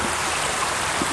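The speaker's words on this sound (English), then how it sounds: "We have this lovely creek crossing right off the bat." Creek water runs across a trail crossing in a nature preserve near Cincinnati. It makes a steady, close babbling rush with no voices over it.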